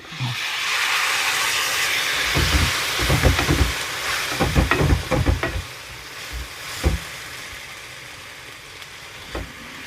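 Hot water poured into sautéed onion and brinjal in a pan sets off a loud, hissing steam burst, with clattering stirs and bubbling in the middle before it settles into a steady hiss.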